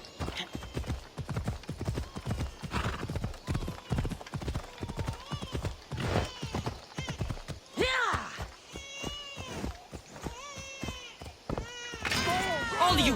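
Horse hooves clip-clop at a steady trotting rhythm while riding in the game Assassin's Creed Odyssey, close and continuous, with whinnies and vocal sounds breaking in over the hoofbeats.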